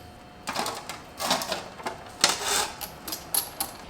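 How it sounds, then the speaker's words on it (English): A license plate being screwed onto a Tesla Model Y/3 plate holder, a series of irregular clicking, scraping and ratcheting bursts from the screwdriver and metal parts, close and moderately loud. "we have to screw in the license plate to the holder first"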